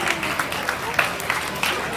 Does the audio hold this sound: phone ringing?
no